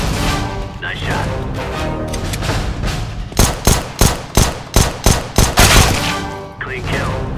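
Rapid burst of gunshots from a shooting video game, about eight sharp loud cracks in quick rhythm following a stretch of busy game noise, with chatter underneath throughout.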